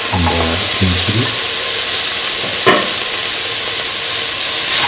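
Tomato pieces and green chili hit a hot pan and fry with a loud, steady sizzle and hiss; a voice speaks briefly at the start over the crackling.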